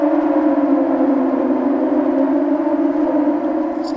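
The Siren Head creature's siren wails in a horror video game, a loud sustained droning tone holding steady throughout with no speech over it.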